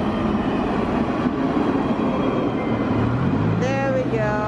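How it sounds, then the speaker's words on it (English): Tram pulling into a stop in France, a steady close rumble with rolling rail noise and brief squealing tones near the end as it slows. "So our tram is coming right here."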